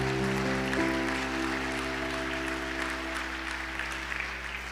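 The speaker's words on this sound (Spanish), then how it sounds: "Denle un fuerte aplauso al Señor." A church congregation applauds in a long, even wash of clapping, with a steady hum of sustained organ-like tones beneath it.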